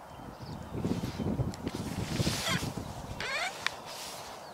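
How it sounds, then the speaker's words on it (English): Canada geese honk repeatedly over gusty wind noise, the calls moderately close and overlapping in irregular bursts. "These are Canada geese."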